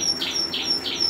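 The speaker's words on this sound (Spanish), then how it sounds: "mira qué virguería de pájaros." Several caged birds chirping, likely males kept together: repeated high, soft chirps in a steady rhythm over a faint background hum.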